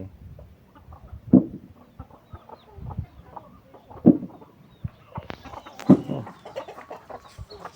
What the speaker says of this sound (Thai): กินอาหารอยู่ตรงนู้นไก่